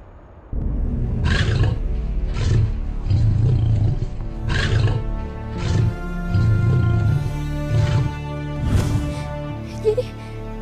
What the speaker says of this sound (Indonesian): suara harimau yang selama ini gue dengar